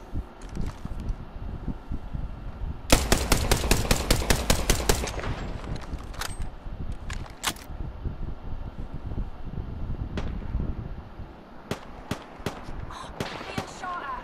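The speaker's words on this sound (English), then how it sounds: "Being shot at!" Gunfire in Apex Legends: a sustained rapid automatic burst of about two seconds, then scattered single sharp shots and short volleys, loud against a background hiss.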